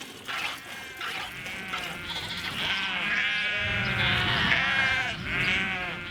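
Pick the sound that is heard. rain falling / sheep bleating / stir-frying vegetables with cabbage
sheep bleating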